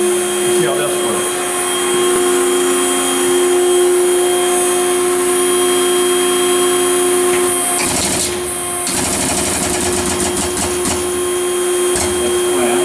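Extrude Hone Profile 200 Series abrasive flow deburring machine running on compressed air, a loud steady mechanical hum with strong tonal lines, then a burst of hissing air and clattering clamp action near the end, with a voice briefly heard.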